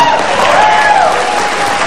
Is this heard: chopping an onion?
no